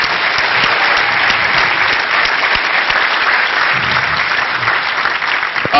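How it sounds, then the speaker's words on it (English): Audience applause at the Shmoocon 2008 hacker conference closing remarks thanking the registration staff, a loud, dense, steady clapping from a large crowd sustained throughout. "So one more round of applause for the registration folks."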